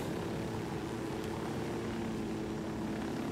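Helicopter flying in the video game Ghost Recon Wildlands, a steady, dense rotor and engine drone that holds evenly throughout at moderate level with no voices.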